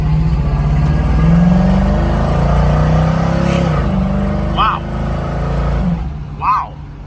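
A 1978 Pontiac Trans Am accelerates hard through all three gears of its automatic, the engine note rising and dropping at each shift, loud and close from inside the car, with brief voices near the end.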